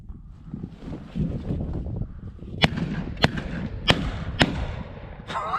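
Shotgun blasts ring out during a duck hunt at wetland ponds, four sharp reports spaced about a second apart with a fifth near the end, over steady wind and murmuring voices.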